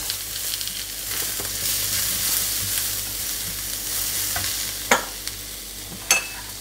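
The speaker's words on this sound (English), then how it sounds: "Just stir fry it so the garlic will not get burnt." Garlic, ginger and onions stir-fried in a pan for chicken stir fry, a steady close sizzle with a few sharp clacks of a spoon or spatula, no talking.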